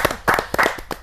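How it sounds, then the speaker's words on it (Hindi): An audience at a Hindi kavi sammelan poetry gathering claps in a short, close burst of uneven hand claps lasting about a second, with no talking over it. "तालियां इसलिए बजवा रहा हूँ क्योंकि बाद में भरोसा नहीं है"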